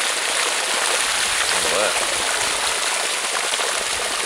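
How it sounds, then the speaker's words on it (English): Gravity-fed flood irrigation water gushes from a dam lock pipe under about three metres of head, a loud, steady close rushing roar, with someone speaking briefly over it. "You can see beautiful gravity fed flood irrigation capacity."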